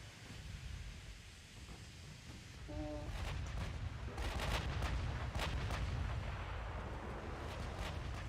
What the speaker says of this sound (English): all turrets should be firing